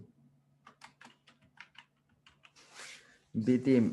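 Fast, light key clicks on a computer keyboard tap out a short run of letters at close range, followed by a breathy hiss and then a brief burst of a voice speaking.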